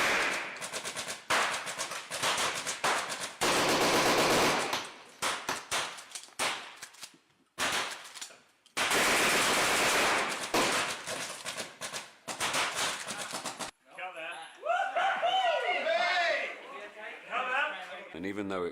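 Blank gunfire from a wide spread of weapons, including shotguns, on a Hot Fuzz film set: dense bursts of rapid cracks and booms in long volleys, broken by short gaps, then echoing shouts and voices.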